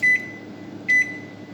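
Two short, clear electronic beeps from a microwave oven control panel as the one-minute timer is entered, spaced under a second apart over a faint room hum, with no voices.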